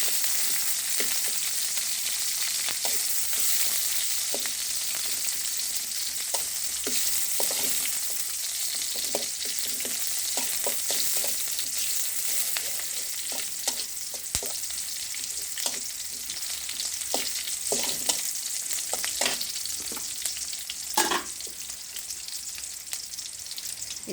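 Onions softening in a hot pan give a steady, bright sizzle throughout, broken by scattered clicks and scrapes of stirring, close and fairly quiet.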